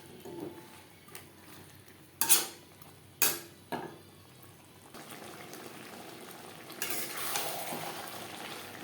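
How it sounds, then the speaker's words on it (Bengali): Potato pieces are stirred into spice paste in a pan for pangas fish curry, with three sharp utensil clanks against the pan over a low simmering sizzle that swells near the end. No talking. "মশলার সাথে আলু বেশ ভালো করে মিক্সড করে দেবো।"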